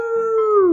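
A voice imitates a dog howling, a single sustained, loud "arroo" that slides slightly downward in pitch, in a children's storybook reading about a dog chasing kittens.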